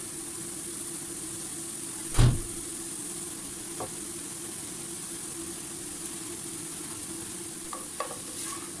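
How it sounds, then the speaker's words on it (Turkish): Soft, steady frying sizzle of chopped mushrooms over browned onions, with an occasional scrape of stirring in a pot, and a low background hum throughout. "Kavrulan soğanların üzerine doğramış olduğum mantarları ekliyorum."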